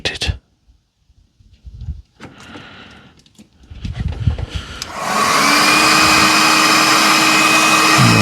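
Heat gun shrinking heat-shrink tubing on wiring during a Toyota MR2 MK3 K20 engine swap, with a few handling clicks before the gun switches on into a loud, steady blowing whir.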